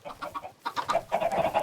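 Chickens on a video game chicken farm cluck in quick, overlapping bursts, a busy flock close by with no talking.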